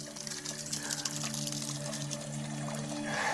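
Fresh spring water trickles and pours steadily out of the ground in the wild, a close, soft continuous flow with a faint tonal hum running beneath it.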